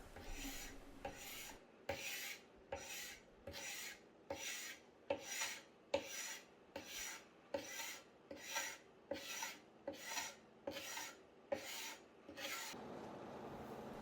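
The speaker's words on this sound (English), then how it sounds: "I go ahead and grab my carbide scraper and scrape that top layer off" Carbide scraper dragged across the solid-wood top of a vintage nightstand, about fourteen even rasping strokes in a steady rhythm, close and clear with no talking.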